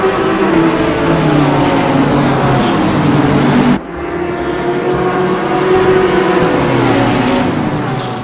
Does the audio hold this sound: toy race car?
yes